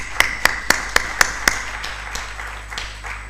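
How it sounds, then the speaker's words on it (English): An online seminar audience claps in appreciation: a run of six crisp, evenly spaced claps, then several fainter scattered ones trailing off, with no talking. "I will request that we kindly clap for them in appreciation"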